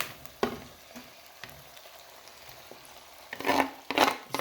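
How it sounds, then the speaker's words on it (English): Pounded AKiDi hits boiling palm oil, sending up bursts of crackling sizzle with quieter frying between them, growing louder and busier toward the end. "I'll transfer it into the boiling palm oil"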